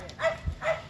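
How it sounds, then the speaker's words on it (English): A dog gives two short, moderately close barks, spaced evenly about half a second apart, with faint background noise between them. "Dog's barking."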